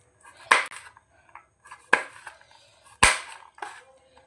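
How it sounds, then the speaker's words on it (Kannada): A knife chops almonds on a cutting board during home cooking of sabudana payasa, giving a few sharp, distinct taps spaced about a second apart with faint clicks between them, close and fairly quiet. "ನಾವೀಗ ಸ್ವಲ್ಪ ಬಾದಾಮನ್ನು ಕಟ್ ಮಾಡ್ಕೊಳಮ್ಮ"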